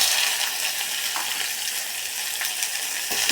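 Cumin, garlic and onion frying in a pan, a steady broadband sizzle throughout with a few faint stirring clicks, close and fairly loud with no talking.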